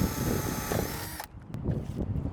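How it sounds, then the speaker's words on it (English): A power drill bores holes into the dash of a 2010-2024 Toyota 4Runner for an accessory mount, a loud whirring run that cuts off abruptly, followed by a few faint clicks and handling noises. "With that hole drilled, I'm going to put a bolt in place"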